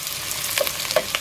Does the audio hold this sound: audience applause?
no